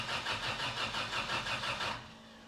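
A turbo-swapped project car's engine cranks steadily with a rhythmic whirring churn for about two seconds, close and loud, without catching, and then stops, leaving a faint hum.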